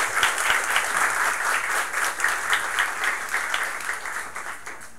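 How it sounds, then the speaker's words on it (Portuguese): An audience at a talk gives a steady, full round of applause for a guest speaker, the clapping loud and continuous throughout before easing slightly at the end. "Uma salva de palmas."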